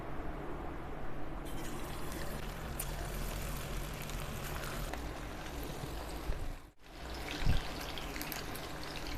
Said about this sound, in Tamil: இப்போது அடுப்பில் எண்ணெய் ஊற்றி காய வச்சுருக்கேன். இதில் நான் மிக்ஸ் பண்ணி வச்சுருக்க சிக்கனை பொரித்து எடுக்கலாம்.